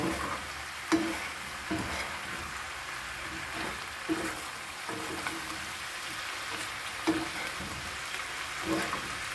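Vegetables, zucchini among them, fry and sizzle steadily in a pan for a vegetable stew, with periodic scraping stirs cutting through the constant crackle, close and moderately loud with no talk.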